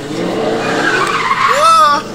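A Dodge Hellcat skids with loud tires squealing and its engine revving close up, the screech rising toward the end, and voices are faintly present.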